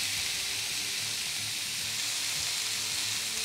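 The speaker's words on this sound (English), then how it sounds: "We're getting all this heavy duty heat from the bottom up, and it's gonna sear these steaks beautifully." Flank steak pinwheels searing on a Ninja Foodi Smart XL Pro grill's griddle plate with the lid open, giving a steady, even sizzling hiss that holds unbroken from start to finish.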